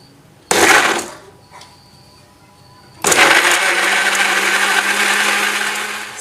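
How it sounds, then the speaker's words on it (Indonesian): A kitchen blender whirs loudly, mixing mango with milk: a short burst, a pause, then a long steady roar of the motor churning the fruit and liquid, close and alone. "Setelah itu ini akan ibu blender."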